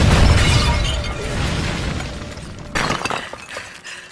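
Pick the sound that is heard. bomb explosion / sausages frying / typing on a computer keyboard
bomb explosion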